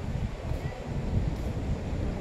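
Wind rumbles low and continuously against the microphone in a garden, a steady blustery roar without any talking.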